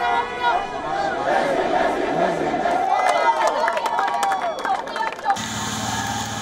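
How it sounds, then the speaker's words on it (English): A massive protest crowd gathers at Mahinda Rajapaksa's private residence in Sri Lanka, with loud, dense chatter, shouts and cries swelling together. Toward the end the crowd noise cuts into a different steady sound. "A massive crowd gathered at Mahinda Rajapaksa's private residence."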